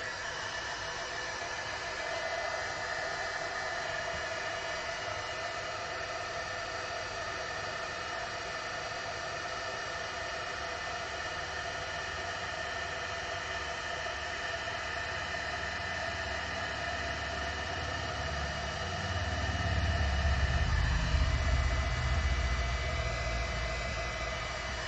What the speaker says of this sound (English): Now I'm going to use my heat tool and set this.